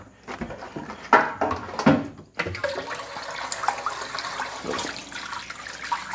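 Water runs from a kitchen tap to rinse a spoon while cooking pumpkin, a close, rushing splash with a few louder surges before settling into a steady stream.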